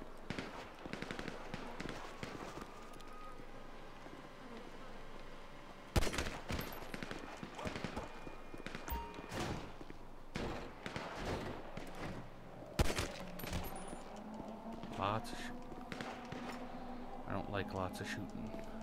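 Rapid bursts of gunfire and scattered shots ring out during a Grand Theft Auto 5 zombie survival match, loud crackling volleys repeating irregularly over game ambience, with someone talking throughout.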